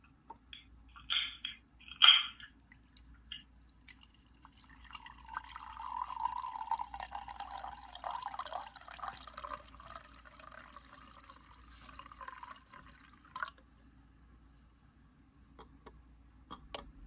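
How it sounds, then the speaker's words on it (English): Old vine zinfandel pours from a bottle into a glass, a soft gurgling stream that swells and runs for several seconds after a few clinks, then stops. "Well, that was a very nice pour."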